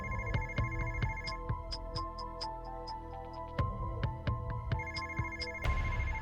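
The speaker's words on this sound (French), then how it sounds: "Le téléphone sonne, mais pourquoi est-ce que Tanu ne décroche pas?" An unanswered telephone rings over and over in a repeating electronic ringtone pattern, mixed under a busy background of music and other sounds, with no one picking up.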